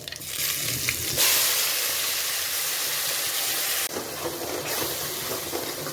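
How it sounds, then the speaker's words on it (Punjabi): Cumin seeds, ajwain and a prepared spice paste fry in hot oil, giving a loud, close sizzle that surges sharply as the paste hits the pan, eases off, then flares again. "ਥੋੜੀ ਜਿਹੀ ਜੀਰਾ ਥੋੜੀ ਜਿਹੀ ਜਵਾਈਨ ਇਸ ਵਿੱਚ ਪਾਵਾਂਗੇ ਆਪਣਾ ਜੋ ਪੇਸਟ ਤਿਆਰ ਕਰਿਆ ਸੀ"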